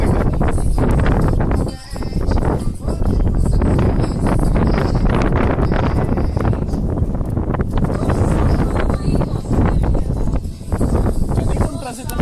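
Strong wind buffeting the microphone outdoors, a loud, constant roaring rumble for the whole stretch with only brief dips, and someone talking now and then underneath.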